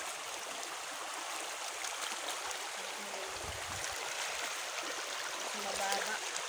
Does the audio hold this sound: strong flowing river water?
yes